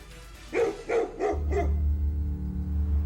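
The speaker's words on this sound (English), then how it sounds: "We got 3 dogs on the bear right now." Several hunting dogs bark at a bear in the woods, four sharp close barks in quick succession, then a steady low rumble of motion or wind continues without further barking.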